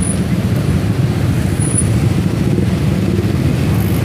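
Congested street traffic at night in Tanjung Uban during Eid al-Fitr eve, a steady dense rumble of car, bus and motorcycle engines close by, continuous and loud with no talking.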